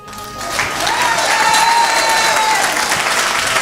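Audience at a live music show breaking into applause, claps swelling quickly after a quiet start and then holding as a loud, dense wash, with a faint sustained tone and some murmur underneath.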